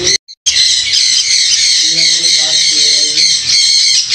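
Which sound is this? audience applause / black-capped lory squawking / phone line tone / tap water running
black-capped lory squawking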